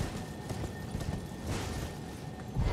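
Horse hooves clop rhythmically while riding in Elden Ring, a faint, steady trot under low game ambience with a heavier thump near the end.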